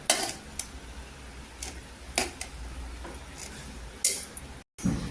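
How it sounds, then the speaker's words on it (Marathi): Cooked pulao rice is served from a pot onto a plate, with scattered light clinks and scrapes of a spoon against metal and dishware at close range, separated by quiet moments. "आता काय करायचं, ह्याच्यावर कोथिंबीर टाकायची आणि प्लेटमध्ये काढून घ्यायचा."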